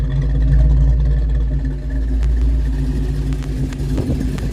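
A Foxbody Mustang fitted with 17x9 Cobra R clone wheels cruises at about 60 mph on a test drive, its engine droning steadily and loudly from inside the car with road rumble beneath, and no one speaking.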